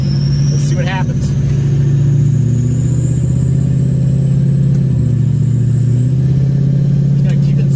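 An off-road vehicle with lowered tire pressure grinds through deep snow in second gear on a mountain trail during a blizzard, its engine a steady loud rumble throughout, with speech over it.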